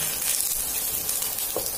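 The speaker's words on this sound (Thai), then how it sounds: "เราจะเจียวกับน้ำมันให้หอมก่อนนะคะ" Ginger, garlic and spring onion frying in a small amount of vegetable oil in a hot pan, giving a steady, soft sizzle and crackle throughout with no talking.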